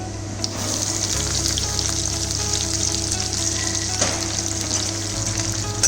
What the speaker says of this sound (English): When oil is hot, we will add cumin seeds, add sliced onions,